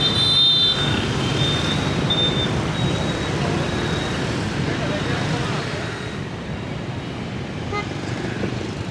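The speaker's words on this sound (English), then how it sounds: "Everyone is honking their horn right now." Busy street traffic in Vietnam with motorbike and car engines rumbling and horns tooting intermittently in the distance, a steady roadway din throughout.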